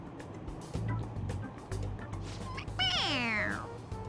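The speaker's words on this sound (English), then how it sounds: "It meows when you press on its head." A toy cat in the Persona 5 Royal video game gives a single clear, bending meow when its head is pressed. The meow comes near the end and stands out over a low background rumble.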